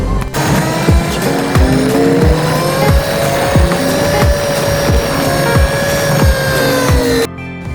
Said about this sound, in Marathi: रिक्षा मिळालेली आहे मला।